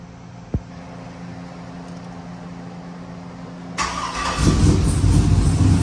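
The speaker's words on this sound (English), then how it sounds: "Starts up and idles on its own." Turbocharged 6-litre engine cranks briefly, then catches and settles into a steady, rumbling idle with a loud whooshing fan-like roar, close and rising.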